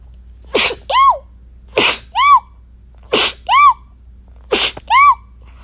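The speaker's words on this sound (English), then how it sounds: "Oh no, I can feel a sneeze coming on." Four loud, close sneezes in a row at a steady pace, each a sharp burst followed by a brief voiced tail, with no speech between them.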